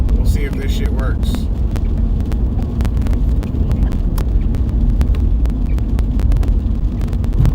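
Steady road noise from a car cruising on a freeway, a dense continuous low rumble of tires and wind filling the whole stretch at a constant level, with no voices over it.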